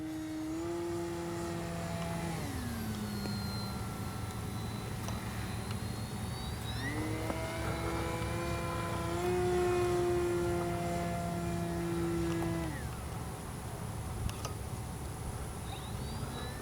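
A small FMS CJ-6 V2 radio-controlled warbird model on its maiden flight drones steadily overhead, its engine pitch sliding up and down as it passes, moderately distant and continuous without talk.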